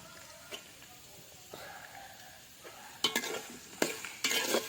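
Sliced onions sautéing in a pan for Kerala-style chicken curry, a low sizzle broken by several loud scraping stirs with a spoon near the end, close and with no talking.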